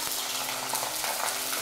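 Green chillies hiss and crackle in hot oil in a wok, a steady close sizzle with small pops, no talking.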